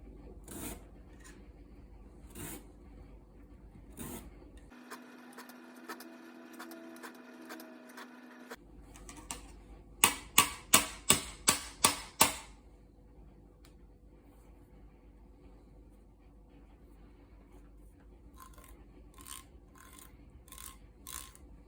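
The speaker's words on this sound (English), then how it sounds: "Lastly, we're going to zest up a couple of lemons." Lemons zested on a grater for lemon pepper cucamelon pickles: sparse scrapes, then a run of about seven sharp rasping strokes in quick rhythm, and a few more light scrapes near the end, close and quiet, with no talk.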